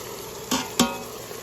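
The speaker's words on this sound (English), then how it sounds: "you're going to manually saute until all the pink is gone" Ground beef sautéing and browning in an Instant Pot, a steady close sizzle broken by two short scrapes of a utensil stirring the meat, with no talking.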